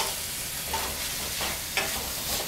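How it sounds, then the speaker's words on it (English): Polpettini meatball mixture with rosemary and Parmesan being stirred and mixed by hand, giving a steady soft wet churning with a few brief squelches, close and continuous, with no talking. "mix that all together."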